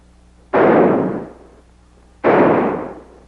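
Two loud, booming blasts from a large gun about two seconds apart, each with a sharp onset and a long fading tail, like heavy gunfire nearby.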